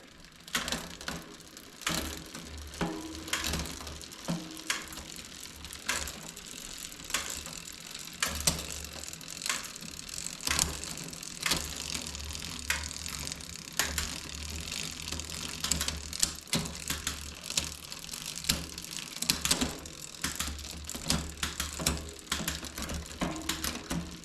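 A bicycle with a freshly waxed chain is shifted through its gears, giving repeated mechanical clicks and ratcheting ticks over a continuous close whir of the drivetrain, with no talking.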